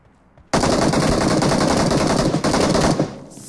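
A sudden, loud, sustained burst of automatic gunfire in PUBG Mobile, fired through a wall. It starts abruptly after a moment of quiet, runs for about two and a half seconds with a brief break, then tails off.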